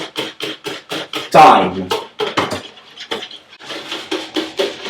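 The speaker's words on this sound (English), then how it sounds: "Add the milk to the eggs and sugar, but continue whisking at all" Eggs, sugar and milk whisked together in a bowl for pastry cream, a rapid rhythmic run of clinking strokes with a brief louder splash, and a voice speaking briefly over it.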